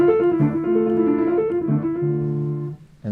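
Piano opening of Schubert's Gretchen am Spinnrade, its restless figure evoking a spinning wheel, played as sustained, rippling harmonic notes that shift in steady succession before fading at the end, no voice.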